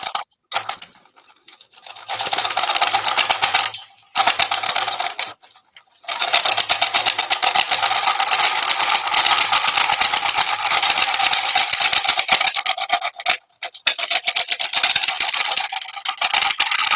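A carbide cutting tool works through material with a loud, close, continuous buzzing grind, broken by a few short pauses where the cut stops and restarts.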